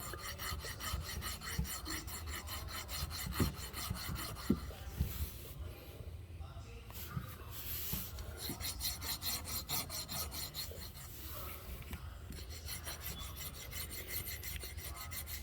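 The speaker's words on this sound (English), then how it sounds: "Try to be as gentle as you can. And start filing it down." Steady rasping strokes of a hand file working down a Wabco HPB pump motor part, close and continuous with rhythmic scraping that briefly pauses midway.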